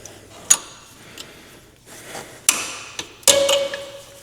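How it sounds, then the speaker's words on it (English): A small clip puller prying wiring connectors apart on a CFMOTO Z10, sharp plastic clicks and snaps in a few separate bursts, close and distinct against a quiet background. "we get our little clip puller in here, just like so, and pull that out"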